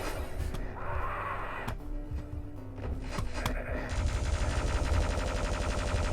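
Rapid automatic chain gun fire from a Doom 2 deathmatch, steady and loud throughout, with dense repeated shots running together and growing heavier toward the end.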